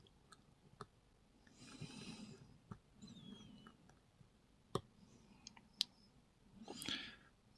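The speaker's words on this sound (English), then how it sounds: "A little click off 3, a little click off 2, another click off 2," Small metallic clicks from a lock pick setting pins inside a Harry Bow Titan No 181 challenge lock, several sharp isolated ticks spaced irregularly over faint rustling and breathing-like noise, close and quiet.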